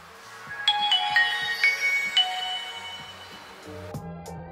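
An old refurbished Symbian phone with a QWERTY keypad plays its startup melody when switched on: a bright chime-like tune of several ringing tones over soft background hum, ending in a short lower jingle.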